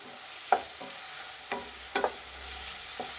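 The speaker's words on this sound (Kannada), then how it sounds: "ಈಗ ಮಸಾಲೆ ಒಂದು ಸ್ವಲ್ಪ ಹಸಿ ವಾಸನೆ ಹೋಗಬೇಕು, ಅಲ್ಲಿವರೆಗೂ ಫ್ರೈ ಮಾಡಿ" Home-ground masala paste frying and being stirred in a pan for capsicum peas bath, a soft steady sizzle broken by a few scraping spoon strokes, close and alone.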